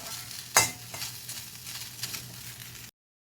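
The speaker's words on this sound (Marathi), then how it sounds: "थोडंसं मी तेल घातलं आहे आणि त्याच्यानंतर ही अशी परत भाजून घ्यायची" Okra (bhindi) fried with a little oil on an iron tava, a low steady sizzle with a sharp clack of stirring near the start and light scraping throughout, close and fairly quiet.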